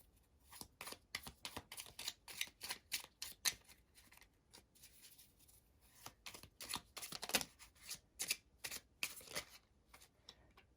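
Tarot cards being shuffled by hand: a rapid series of crisp riffling, slapping card sounds in uneven bursts, close and fairly quiet, continuing for several seconds with no talking.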